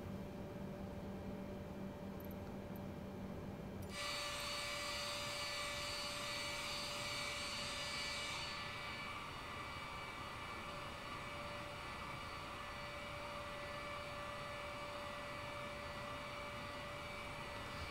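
Boeing 787 Dreamliner jet engines in Microsoft Flight Simulator 2020, taxiing at Seattle: a steady, even engine whine and roar with a constant high tone, the hiss brightening partway through and holding with no talk.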